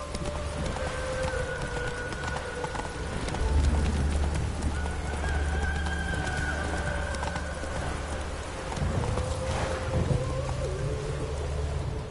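Hooves of Roach, a horse in The Witcher 3, clatter in a steady galloping rhythm with an occasional whinny, over a low rumbling backdrop of game music and ambience.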